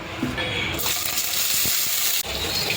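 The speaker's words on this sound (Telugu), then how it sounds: "మిర్చి వేయించుకుందాం." Loud continuous sizzling of green chillies frying in a spoonful of hot oil, close up, with a few clinks of a utensil against the pan.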